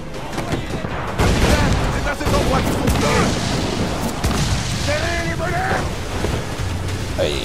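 Heavy naval cannon fire rages during a ship battle in the PS4 game Assassin's Creed Freedom Cry: dense, continuous booming and crackling blasts with a roaring wash of sea and combat noise, loud throughout, with faint voices in the mix.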